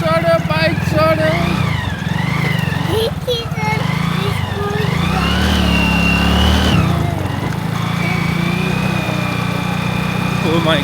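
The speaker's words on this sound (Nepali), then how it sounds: "चढ्यो बाइक चढ्यो" A motorcycle labours up a steep, dangerous village road in Nepal, its engine droning loud and close while revving and wavering in pitch, with excited voices talking over it.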